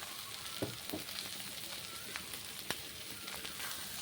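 Potatoes fry in a pan for a Bengali jhinge posto dish, a soft, fairly quiet steady sizzle with a few faint stirring clicks scattered through it.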